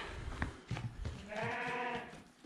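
A lamb on a Turkish village farm bleats once in a long, wavering cry after a few short rustles and thumps of handling nearby, heard close and clear with no talk over it.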